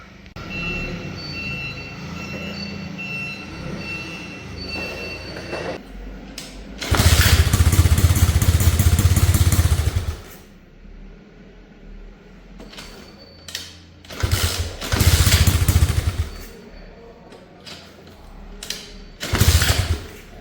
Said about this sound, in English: see if we can get it to run for a little bit longer before it cuts out